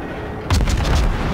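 A naval gun salvo in the World of Warships video game, fired from the Benson destroyer, bursts out suddenly as a loud booming volley that follows a low rumble, with several quick echoing pulses.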